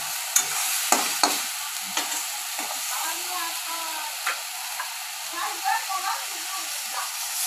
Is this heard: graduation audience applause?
no